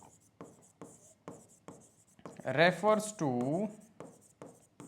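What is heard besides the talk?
writing on a board during a lecture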